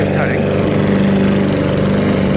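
Self-propelled 6.5 horsepower push lawn mower engine running in a steady, loud, close drone with a rough buzzing tone and no pauses.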